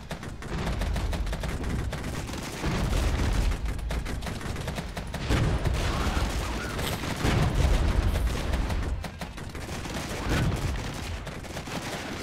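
Sustained gunfire aimed at tanks in the WWII-style strategy game Regiments, with dense overlapping volleys and rattling bursts that swell and ebb in waves, loud and continuous throughout.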